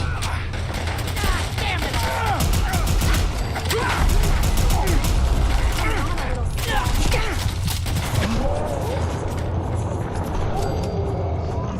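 Rapid bursts of gunfire from the video game Fallout 4 (modded) rattle on continuously and loudly, with mechanical clanks mixed in, while a player talks over it.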